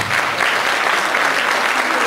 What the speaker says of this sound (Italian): Un applauso alla banda di Vianova.